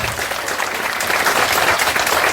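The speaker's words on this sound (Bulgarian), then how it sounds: "за които още по-силни аплодисменти искам да чуя" Loud, dense applause from a party crowd honoring the parents at a ball, sustained and even throughout.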